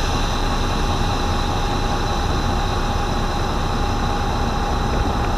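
An icebreaker's engine runs in high gear as a loud, constant low rumble and drone that holds steady throughout without a break.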